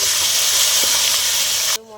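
Loud, steady sizzling hiss of ginger garlic paste, onions, green chillies and spices frying in a pan for chicken patiala, close up, cutting off abruptly near the end.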